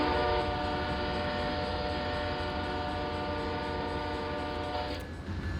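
A CSX veterans-liveried locomotive in Train Simulator 2020 sounds a loud, sustained multi-tone horn under a steady engine rumble, the horn cutting off near the end.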